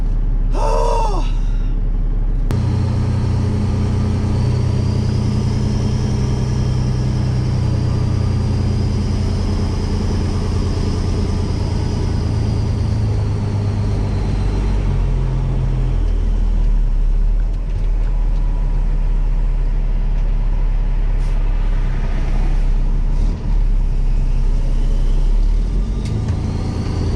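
An old Peterbilt 389 truck hauling a dump trailer drones steadily from inside the cab with a low, rumbling engine tone. A brief rustle opens the sound, and faint clicks and shifts come later.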